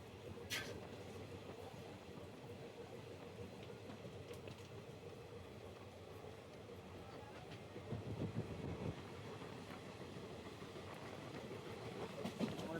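Rumbling interior of a moving passenger train on a long overnight run toward Bangalore, a steady low drone of wheels and carriage with faint clickety-clack, ceiling fans running, and voices murmuring softly beneath the noise.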